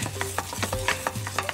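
A rice paddle stirs caramelized pork belly in a pot for Vietnamese thịt kho tàu, making short, rhythmic scraping strokes about every fifth of a second over a low, steady hum.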